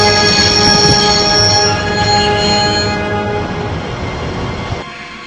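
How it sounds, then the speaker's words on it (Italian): A train in the video game Broken Sword: The Shadow of the Templars rumbles loudly with sustained tonal whining, then fades and cuts off near the end. "Avevo sempre desiderato fermare un treno"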